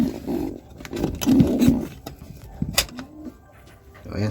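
Racing pigeons in a loft coo in low, throaty bursts close by, with scattered rustles and light knocks in between.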